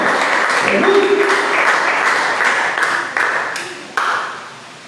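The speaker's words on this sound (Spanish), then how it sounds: "Fuerte ese aplauso para Cristo" A church congregation applauds during a Bible study service, with steady dense clapping that swells and tapers in waves while a voice speaks over it.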